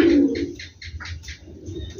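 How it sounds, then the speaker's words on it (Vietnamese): Pigeons coo in a soft, repeated rhythm, several low throaty calls in quick succession, close and clear with no talking. "bồ câu gà vàng."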